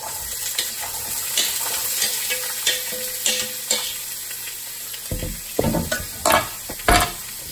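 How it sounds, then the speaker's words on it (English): Sausage, bell pepper and onion frying in a skillet, a steady sizzle with a series of sharp scraping stirs and clanks of the utensil against the pan, close and loud with no talking. "all I'm gonna do is just add all of this into the skillet and cook it up."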